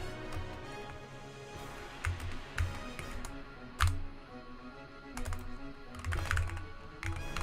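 Close computer keyboard typing in irregular bursts of quick taps and clacks, some louder strikes standing out, with no talking.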